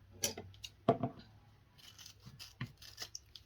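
Scissors cutting a 10-inch piece of material for a yardstick swag, a few close, crisp snips with brief rustling between them and no talking.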